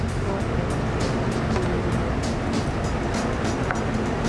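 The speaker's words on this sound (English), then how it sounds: "Then as we get the blender going, we're going to start adding a little bit of extra virgin olive oil" Blender running as it purees peppers, garlic, sherry vinegar and water, a steady dense whirring roar with regular rhythmic pulses, loud and close throughout.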